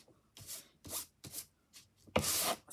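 Sandpaper in a Tim Holtz sanding tool rubbed over paper in short, quiet strokes, about six rasping passes with brief pauses between, the last one longer and louder.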